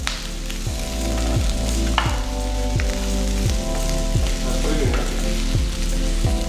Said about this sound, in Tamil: ஸோ இப்போ வெங்காயம் பார்த்தீங்கன்னா ஒரு அளவுக்கு நல்லா வதங்கியிருக்கு.